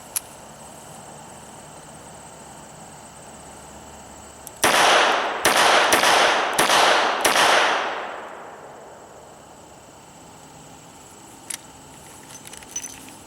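Five sharp, loud gunshots fired in quick succession from a Smith & Wesson 340 SC .357 five-shot revolver, each crack ringing into a decaying echo before the range falls quiet.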